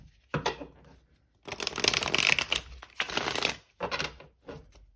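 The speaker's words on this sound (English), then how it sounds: "Okay, we'll do one last shuffle." A deck of tarot cards is shuffled in several close riffling bursts, short flutters separated by brief pauses, with one longer riffle in the middle.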